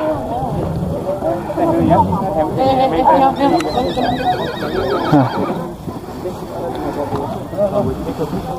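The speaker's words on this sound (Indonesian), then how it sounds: "Nah, ini kuda-kudanya diparkir di sini." Parked horses at Mount Bromo whinny loudly and close by, with hoof clops and shuffling mixed in, while people talk nearby.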